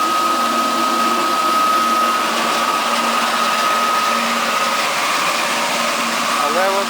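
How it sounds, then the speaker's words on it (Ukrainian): A pumping station at a geothermal-cooling substation pumps water, giving a steady mechanical hum with a constant whining tone that runs unbroken and fairly loud throughout. "насосна станція, яка качає воду на подстанції геохолодження"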